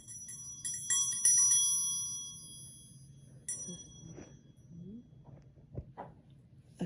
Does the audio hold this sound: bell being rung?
yes